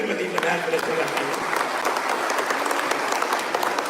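Audience applause fills a hall at a social activists' protection conference in Vellore: loud, dense clapping from a large crowd that stays even throughout, with a voice faintly mixed in.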